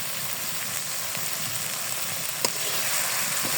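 A paste of chili powder, cumin, garlic, ginger and onion fries in a wok, giving a steady close sizzle with soft crackles and occasional light stirring scrapes, no one speaking.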